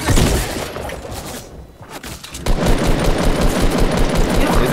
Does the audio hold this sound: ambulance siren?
no